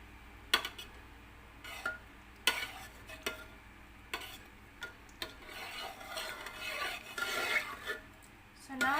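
A spoon stirs milk in a pot for homemade low-fat yogurt, making repeated scraping strokes and sharp metallic clinks against the pot's sides, close and fairly loud with quieter rubbing between strokes.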